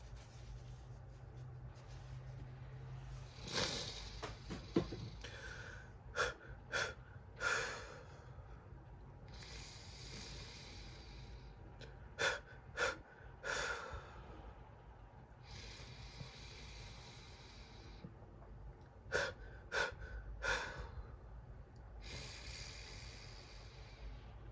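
Slow, heavy breaths drawn in and let out during an emotional moment, with deep inhales, shaky exhales and occasional sniffs repeating every few seconds, close and quiet with no talking.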